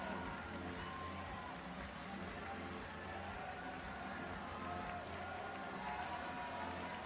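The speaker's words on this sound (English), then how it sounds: "An ecstatic portion there of the crowd here in Dolphins Arena" Arena crowd at a Nagoya Diamond Dolphins home basketball game in Dolphins Arena cheering after a victory, a steady dense roar of voices and clapping that holds level throughout without letting up.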